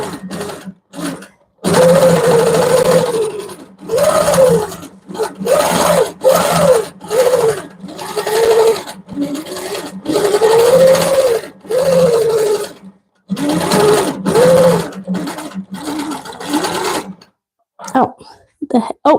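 A sewing machine stitches around printed areas of a panel quilt, running in repeated bursts of loud whirring, several seconds each, broken by short pauses, with no talk.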